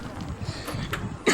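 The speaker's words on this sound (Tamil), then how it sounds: "என்னடா இருமுன்னு பார்க்காதீங்க" A person with a fever coughs near a beach and swimming pool, a few short, muffled coughs over background outdoor noise, followed by a sudden louder burst at the end.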